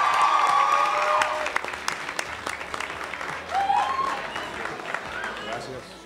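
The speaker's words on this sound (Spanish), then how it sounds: "Un aplauso para Manuel Medrano, por favor." Audience applause and cheering for Manuel Medrano at a live show at the Politécnico Grancolombiano, a dense, steady clapping crowd that swells briefly and then tapers off, with voices mixed into the noise.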